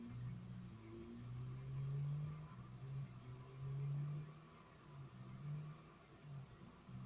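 A car engine in GTA San Andreas revs and hums as the vehicle pulls away, faint and steady with a few rising surges, no voices over it.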